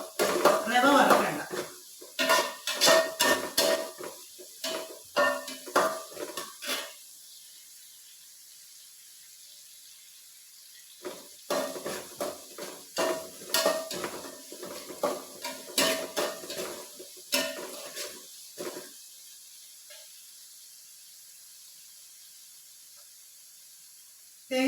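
Roasted rava cooks with salt in a pan: a spoon stirs and scrapes in busy bursts of clattering metal over a light sizzle, then pauses in near quiet for a few seconds before the stirring resumes up close.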